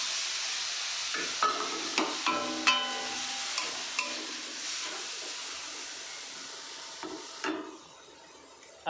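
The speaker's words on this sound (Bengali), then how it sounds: "এখন জিরার মধ্যে ঢেলে দেব টমেটো কুচি" Chopped tomato tipped into cumin frying in a pan for an oil-free green jackfruit dish. A steady bright sizzle runs under several utensil clinks and taps, then the sound drops away sharply near the end.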